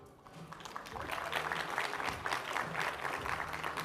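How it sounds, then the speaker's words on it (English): Audience applause at a national town hall on women voting, steady clapping from a crowd that swells after a quiet start and holds fairly loud throughout, with no speech over it. "You guys can clap."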